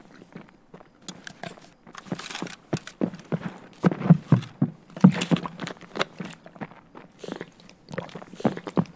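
Character eating in the video game Escape from Tarkov, a run of close, rhythmic crunchy chewing and biting sounds, fairly soft, with no talk.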